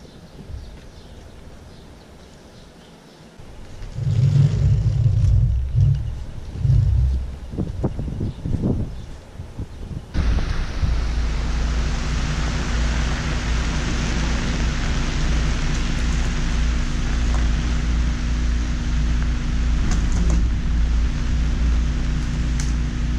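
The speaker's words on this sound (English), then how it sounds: "It just started pouring and it is going crazy in here." Heavy rain pours down steadily on a vegetable farm, a dense roaring hiss that starts abruptly partway through and holds loud and constant, after a stretch of quieter rustling and knocks.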